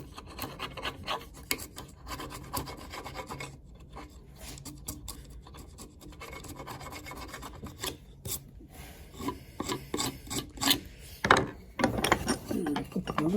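A wood chisel pares a mortise and tenon joint with repeated close scraping and rasping strokes, uneven in rhythm, with occasional knocks and handling noises between cuts.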